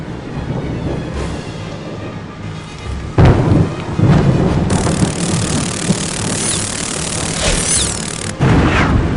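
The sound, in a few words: thunderstorm in Harry Potter 3 video game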